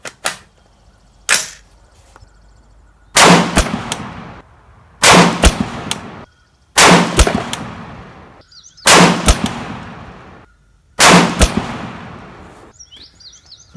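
A Rock River Arms 20-inch varmint rifle fires at a 100-yard range, six loud sharp shots spaced about two seconds apart, each followed by a decaying ring. Two faint early pops come before the sequence.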